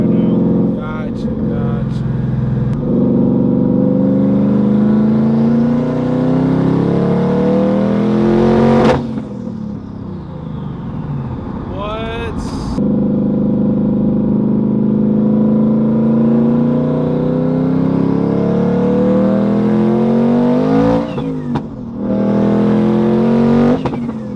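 A turbocharged car making about 850 horsepower accelerates hard, its engine roaring and climbing in pitch through repeated loud pulls with brief drops between gear changes, close and dominant, with voices talking over it.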